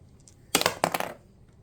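Dice are rolled onto a hard surface for a reading game, with two quick clattering bursts of rattling knocks that die away within a second.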